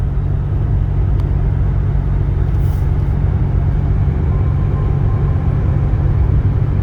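A 2011 BMW 528i with a naturally aspirated 3.0-litre inline six cruising on the highway, heard from inside as a steady, loud low drone of engine and road noise with no talk.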